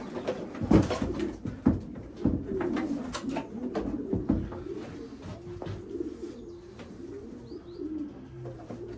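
Young pigeons coo in a loft, a steady chorus of low, overlapping coos close by that carries on throughout, with some handling noise and scattered soft calls.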